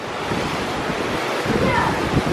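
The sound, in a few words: ocean waves and wind on cruise ship deck in rough seas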